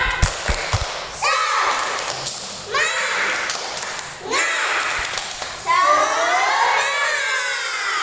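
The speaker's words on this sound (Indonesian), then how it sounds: "Tepuk semangat" Kindergarten children at TK Darmayusiwi 2 in Magelang perform the 'tepuk semangat' clap chant, with rhythmic group clapping and loud shouted chanting from many young voices, led by an adult.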